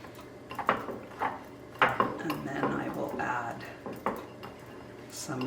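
A spoon scrapes and clinks against a pot while a grainy, butter-based mixture is stirred into homemade garden tomato soup, with uneven knocks and scrapes close by and a voice talking faintly underneath.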